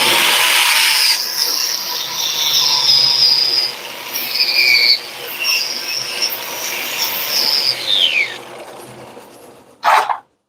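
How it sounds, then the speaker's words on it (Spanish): A power tool, likely a grinder or wire wheel, whirs and squeals against metal while cleaning an area on a Mitsubishi Canter truck before welding, a steady high-pitched grind with shifting whines, ending in a sharp clank. "Voy a limpiar la zona que vamos a soldar."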